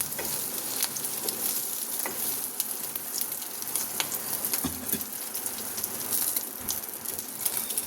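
A Maggi omelette fries in plenty of oil in a pan, giving a close, steady sizzle dotted with sharp crackles and pops throughout. No one speaks.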